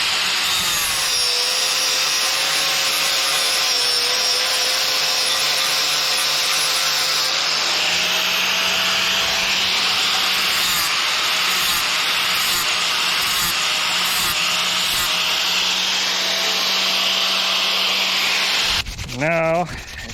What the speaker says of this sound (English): These sanding discs really move a lot of material quickly